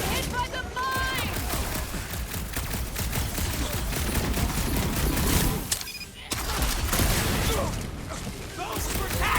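Mines exploding and attacking during a chase battle in the Guardians of the Galaxy video game, with dense rapid bursts of gunfire-like blasts and booms filling the scene, loud and continuous under shouted character voices.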